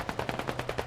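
An RPD machine gun fires a rapid, evenly spaced burst of about eight shots in the video game Squad, set in Afghan mountains, fairly close and with no talk over it.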